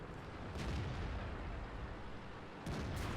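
Tank cannon fire in the World of Tanks game with an SU-100 or T-54 Lightweight, a couple of deep booming shots over a constant rumbling background.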